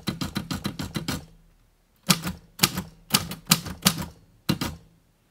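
A typewriter typing nearby, starting with a quick run of about eight crisp key strikes, then a pause, then several slower, spaced strikes, with no talking.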